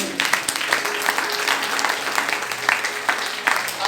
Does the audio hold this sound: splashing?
no